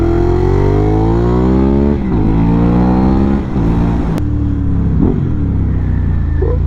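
Loud, close Ducati Hypermotard motorcycle engine revving and accelerating through several gear changes, pitch climbing and dropping repeatedly with no talk.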